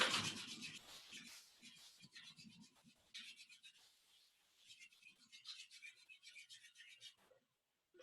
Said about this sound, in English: And again, warming the hands.